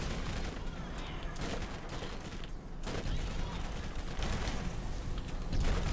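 Missile and gunfire barrage in the Borderlands game, a dense, continuous rumble of blasts and shots running steadily throughout without any pauses.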